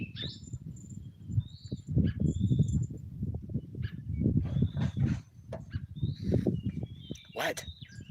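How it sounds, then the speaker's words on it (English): Little yellow goldfinches and house finches sing outdoors in the morning, with scattered thin chirps and short warbled phrases over a constant low rumbling background. "There's little yellow goldfinches, there's house finches."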